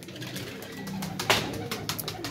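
Pigeons coo softly in a loft amid rustling and wing flutters, with a few brief sharper sounds over a steady background.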